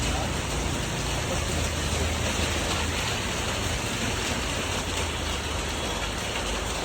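Rain pouring outside, a dense steady wash of falling drops at constant loudness throughout, close and enveloping with no distinct breaks.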